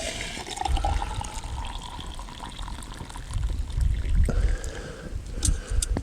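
Water pouring from the spout of a Kelly Kettle, a close, gurgling and splashing stream with uneven surges and low burbling thumps, running continuously without speech.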